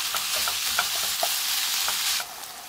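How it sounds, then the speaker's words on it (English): Ground meat and onion sautéing in a pan give a steady, close, loud sizzle, with scattered soft scrapes from stirring; the sizzle drops noticeably near the end. "Once you've sauteed your onion a little bit in with the meat"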